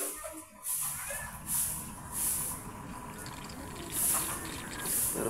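141B solvent is flushed through air-conditioner pipes, producing a hissing, gurgling liquid rush with repeated bright spurts of high hiss roughly every second, steady and close.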